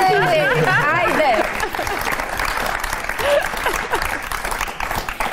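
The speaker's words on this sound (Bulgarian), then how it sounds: "Айде, аплодисменти и замахи." A studio audience breaks into applause while voices laugh and call out over it. The clapping is close and lively and carries on under the chatter to the end.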